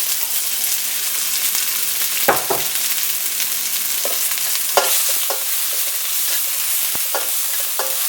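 Crushed garlic and salt sauté in hot coconut oil in a pan, a steady bright sizzle with occasional scraping stirs and soft clicks of a spatula, close up and without talk.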